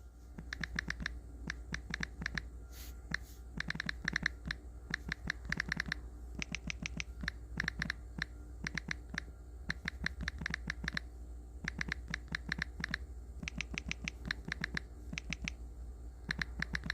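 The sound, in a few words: typing on a computer keyboard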